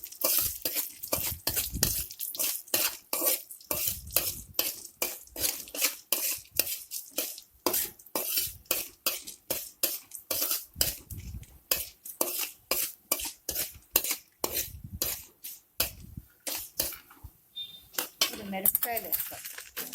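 Fenugreek seeds, coriander seeds and urad dal being dry-roasted in a pan, heard as a rapid run of metallic scraping and clinking strokes from a spoon stirring against the pan, close and rhythmic.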